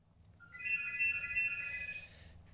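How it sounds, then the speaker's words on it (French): A phone rings once with a bright electronic tone, a sustained warbling ring lasting about a second and a half over a quiet room, then stopping. "Désolé pour le téléphone."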